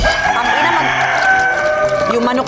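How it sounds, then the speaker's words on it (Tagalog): A rooster crows in the early morning, the call sustained and fairly close across a steady background, with other farm sounds faintly underneath. "Ang ina yung manok natin, tumitilaok ang aga."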